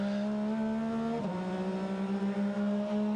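A Porsche 912 race car with a 4.2 litre flat-six engine drones with a steady, sustained tone that dips in pitch partway through, heard at the Rolex 24 At Daytona.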